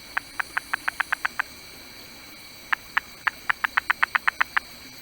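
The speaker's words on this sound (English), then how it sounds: "what I thought was green-eyed tree frogs at the time with a really distinct, high-pitched, fast call" A green-eyed tree frog's high-pitched call: two fast bursts of sharp, evenly spaced chirps, about eight and ten notes, separated by a short pause.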